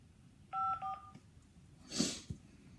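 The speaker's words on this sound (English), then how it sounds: "You are now logged into the Mojo Dialer." Auto-dialer phone tones from the Mojo Dialer system: a short run of steady DTMF dialing beeps in two quick bursts, followed by a brief click and a soft burst of line noise, quiet overall with no talk.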